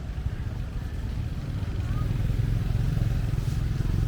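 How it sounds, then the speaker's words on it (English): A boat engine rumbles low and steady nearby on Tonle Sap lake, Cambodia, growing slightly louder as the boat pulls in. "This boat just pulled in."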